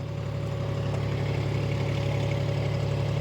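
A John Deere 5050 D 4x4 tractor engine runs steadily, a constant low diesel drone with even loudness throughout.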